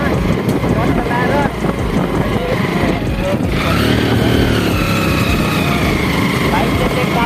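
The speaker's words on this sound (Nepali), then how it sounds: "सो हामी चाहिँ अब बाइक चलाइ हिँड्दैछौँ" A motorcycle engine drones steadily while the bike is ridden, strong wind buffeting across the microphone and a rising engine tone partway through, with speech mixed in under the noise.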